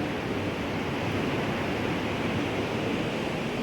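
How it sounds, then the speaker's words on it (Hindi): A swollen river rushing hard after heavy rain, a steady, dense roar of fast-moving water that stays loud and unbroken throughout, with no voices over it. "बारिश के चलते क्या हुआ कि बाहर नदी देखिए कितनी तेज़ आ गई है,"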